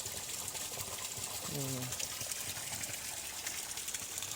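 Water pours steadily from an old spring at Jembangan, said to date from the Majapahit era. It makes a continuous broadband rush with no pauses, and a brief faint voice sits beneath the flow midway.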